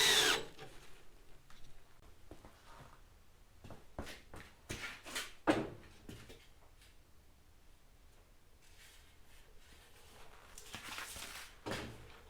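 A power drill drives a screw into the wood of a rabbit hutch, with several short bursts of whirring and clattering among quiet pauses and handling knocks.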